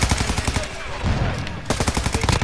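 A shooting video game plays dense, loud bursts of automatic gunfire, fast rattling shots up close that break off briefly before resuming.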